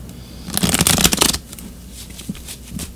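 Tarot cards being shuffled by hand, a close, crisp riffling burst of about a second followed by quieter intermittent card rustles, with no talk.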